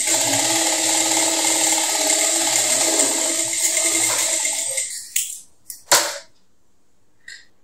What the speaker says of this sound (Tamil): இப்போ 3ல் வச்சுருக்கேன். நான் வந்து ஸ்டிச் பண்ண ஸ்டார்ட் பண்ணுறேன்.